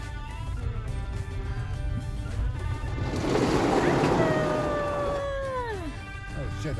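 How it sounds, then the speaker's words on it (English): A rental car drives through a waterfall spilling onto a road on Madeira: a rising rush of water drumming on the car swells to a loud peak, then eases under the steady hum of wind and road noise. "We're about to drive through the waterfall."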